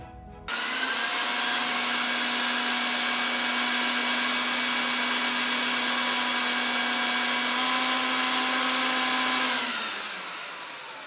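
A rug-cleaning vacuum pulls an odor-free Dead Sea cleaning solution up from under a soaked rug, with a loud, steady whine and roar that holds for about nine seconds and then winds down.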